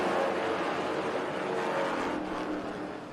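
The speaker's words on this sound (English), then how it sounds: "Back to green flag racing down here to turn number 1" Pro stock race cars roar past on a short oval track under green-flag racing, a loud dense engine drone that fades slightly as the pack moves away.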